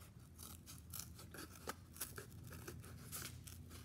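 Scissors cutting a quarter circle out of cardboard, a run of close, crisp snipping and rasping strokes at an uneven pace, with no talking.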